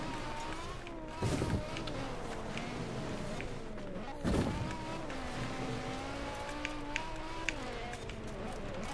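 Race car engine in Forza Horizon 4 during a winter saloon-car event, a steady revving drone with shifting pitch and two brief louder bursts, under someone talking throughout.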